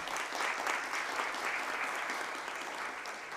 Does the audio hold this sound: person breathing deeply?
no